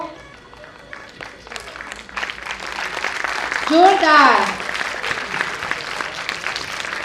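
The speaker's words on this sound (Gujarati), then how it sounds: "પણ તાળીઓનો અવાજ તો આપો" Audience applause at a 2025 school prize distribution ceremony, a broad crowd clapping that swells to a peak midway and runs steadily under a voice over a loudspeaker.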